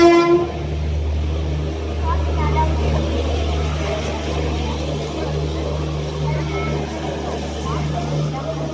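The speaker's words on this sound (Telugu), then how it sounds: "మేము వెళ్ళగానే అయితే ట్రైన్ అయితే వచ్చింది" A train pulls into a station platform in the rain, its loud, steady low rumble and droning tones filling the scene while background voices murmur.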